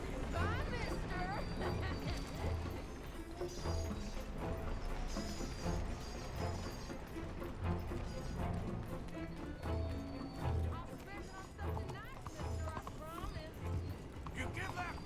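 Rhythmic hoofbeats of a horse galloping in the Red Dead Redemption 2 video game, steady clip-clop under a music score with game voices talking over it.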